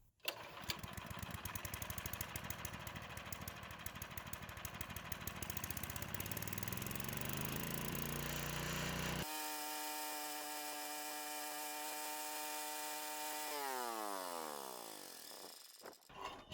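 Harbor Freight wood chipper's small engine, choked and set to fast, starts and runs loudly with a steady buzzing drone, then changes speed near the end before cutting off.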